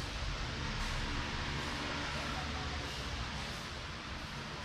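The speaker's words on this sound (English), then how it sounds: "we got the fans on, so sorry about the air noise." Electric fans running on a porch in the Philippines, a steady broadband whoosh of moving air, constant and fairly loud throughout with no other sounds standing out.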